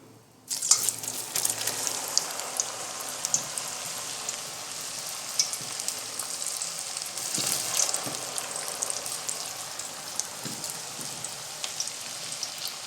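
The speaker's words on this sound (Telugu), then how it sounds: "శుభ్రం చేసుకున్న 1 kg బోడ కాకరకాయల్ని మనం ఆయిల్లో వేసుకుంటాం" A kilogram of cleaned spiny gourds frying in refined oil for a pickle, a dense, steady crackling sizzle like rain on a surface, close and continuous, with occasional stirring knocks and no talking.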